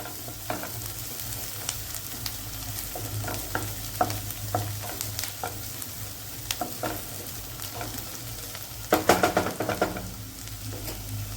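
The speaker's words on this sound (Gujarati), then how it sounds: "અને ડુંગળીને થોડીક વાર માટે થવા દઈશું" Chopped onions sizzle steadily in a pan for a simple pasta, with occasional stirring scrapes and a brief louder burst of stirring near the end, close and without talk.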